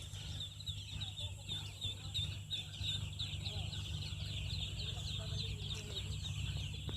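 Three-day-old ducklings on a duck farm, a dense chorus of high peeping and chirping, constant and moderately near, over a low background hum with faint voices.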